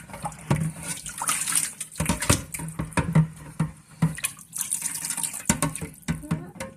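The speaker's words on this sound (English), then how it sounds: "I'm removing the grass with the same 2 liters of water" Water poured and splashed while washing cut grass off a surface with a small reused amount of water, irregular bursts of trickling and splashing, close and moderately soft, with no talking.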